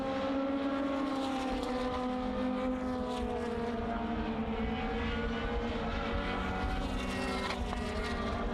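Lotus Exige S1 race cars with Honda engines circuit Snetterton during a Lotus Cup Europe race, a steady sustained engine drone with shifting tones throughout, loud and continuous with no talk.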